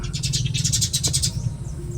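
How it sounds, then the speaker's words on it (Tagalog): Birds in the Roblox game 99 Nights in the Forest give rapid, repeated chirping calls in a steady rhythmic series, loud and close over a low background hum. "Ingay nyo namang mga ibon kayo."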